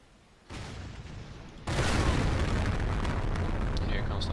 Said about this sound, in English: And here comes the artillery.